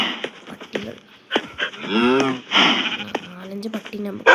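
Sheep bleat in a crafting and building game, a wavering cry standing out midway among short animal calls, with a person talking over much of it.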